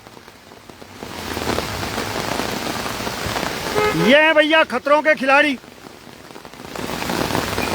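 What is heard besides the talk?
heavy rain falling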